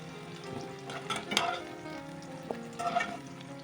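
Potatoes frying in a pan of oil while being stirred, with a steady close sizzle and scattered scraping clinks of a utensil against the pan.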